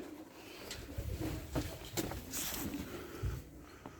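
Pigeons coo softly in a loft during a morning of catching stray birds, with low repeated coos over outdoor background noise and scattered rustles.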